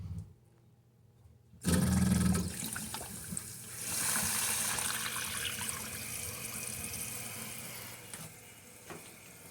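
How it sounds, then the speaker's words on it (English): A toilet tank refills after a new flapper is fitted: quiet at first, then water suddenly gushes in with a loud rush that settles into a steady, hissing fill. "Next, you'll need to let the tank fill up."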